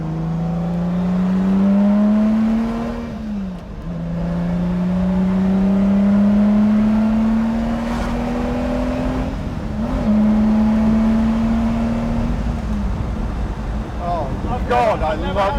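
Lamborghini Miura supercar engine pulling hard on a country road, a loud, close, continuous roar that rises through the gears with short dips at each shift and wind rush throughout.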